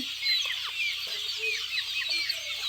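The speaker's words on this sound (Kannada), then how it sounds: "ಮರಿಗಳು ಹಿಂಗೆಲ್ಲ ಓಡಾಡ್ಕೊಂಡದಾವ ನೋಡ್ರಿ" Chicks and chickens cluck and chirp steadily in a 20 by 35 poultry shed on a free-range village farm, many overlapping calls close by over a low constant hum.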